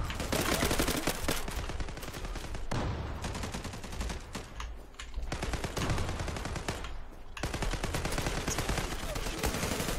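Rapid automatic fire from an M4A1 rifle on the Çanakkale map in the online shooter Zula: loud, dense bursts of shots with brief pauses between volleys and near-continuous rattling throughout.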